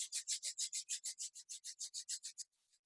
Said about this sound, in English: Rub your hands together, building up some warmth in your hands.